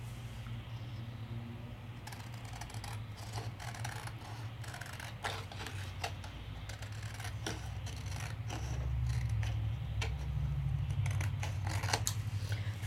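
Scissors snip through specialty paper in a crafting setting with embossing powder and layering stencils, giving faint, irregular crisp cuts over a steady low hum.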